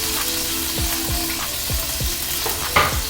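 A sirloin steak fries in oil with a loud, constant sizzle. Several dull knocks and short pops break through the crackle.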